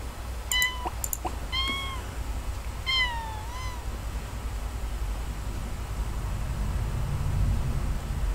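A kitten in the video game Sims 4 Cats & Dogs meows several times, short high chirping cries in quick succession and then a longer drawn-out mew, over steady background hiss.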